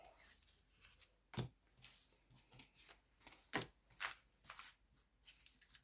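Playing cards shuffled and dealt by hand for a fortune-telling reading, a quiet run of soft riffling slaps and sharp snaps as each card lands, close and alone with no talk.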